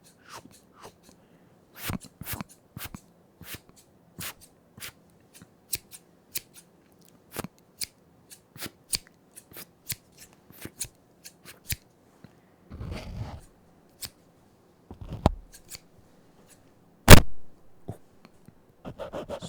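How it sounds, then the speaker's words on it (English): Scissors cut repeatedly at close range, sharp snipping clicks spaced irregularly, with a few louder crunchy cuts toward the end. "Some cutting sounds."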